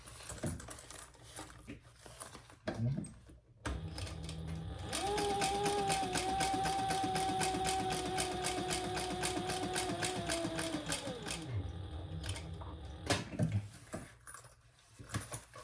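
A sewing machine stitches a small wallet in a fast, steady mechanical whir that runs for several seconds, framed by quieter handling clicks and pauses before and after.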